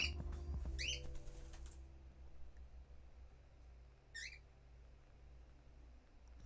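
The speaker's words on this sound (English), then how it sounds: "My birds do insist upon contributing to this stream as much as they possibly can" Pet birds kept indoors give a few bright chirps, one short burst near the start and another about four seconds in, over a steady low household hum.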